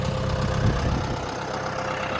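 A big tractor's engine idles steadily up close, a loud, even low rumble with no talking.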